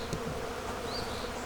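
Dense, steady buzzing of many honeybees crawling over the comb, a close, continuous hum with no voices.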